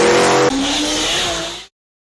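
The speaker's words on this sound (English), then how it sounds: "Land Rover Defender with LS3 engine?" A loud, close LS3 V8 engine in a Land Rover Defender roaring at high revs, pitch shifting as it accelerates, then cutting off abruptly into silence.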